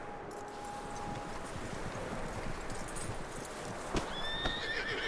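Horse sounds from the Red Dead Redemption 2 video game: a steady patter of hooves under a faint background tone, ending in a short neigh near the close, with no one speaking.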